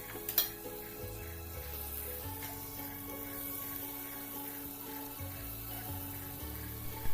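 Rice-flour pitha cakes made with banana fry in refined oil in a wok over a medium flame, giving a steady, close sizzle that continues through the whole stretch alongside a tonal musical background.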